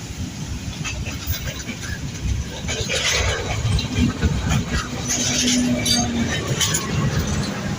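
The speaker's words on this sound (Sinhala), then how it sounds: "ආය අනිත් පැත්තෙන් කෝච්චියක් එනවනේ බං" A train rumbles past nearby, a steady rolling roar with faint clinks and rail clatter that holds for several seconds, with voices talking over it.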